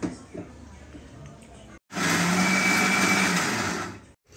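An electric mixer grinder crushes spice paste with a little water for misal, giving a loud, steady whirring roar for about two seconds that stops abruptly, after quieter kitchen sounds.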